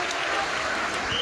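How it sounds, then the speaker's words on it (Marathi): Applause from an audience at a Maratha rally in Maujpuri honoring Manoj Jarange Patil, steady dense clapping filling the whole moment at close range, with no voices over it. "पण पुन्हा एकदा टाळ्या वाजवायच्या"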